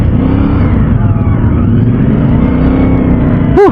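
CFMOTO 450MT motorcycle rides off-road, its engine droning loud and steady up close with shifting revs, ending in a brief sharper burst.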